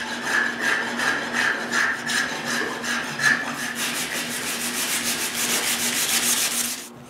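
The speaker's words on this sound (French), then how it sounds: "J'arrange ça avec la vastringue." A spokeshave shaves wooden dowels down to size for a wooden tripod, producing steady, close rasping strokes in a repeating rhythm that quicken toward the end, with no talk.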